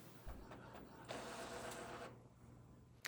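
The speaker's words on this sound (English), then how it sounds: "Click Print, then click Print again to send the file to the printer." An Epson SureColor F170 printer printing an award plaque, making a steady mechanical whir with carriage movement and soft clicks that continues throughout at a quiet, close level.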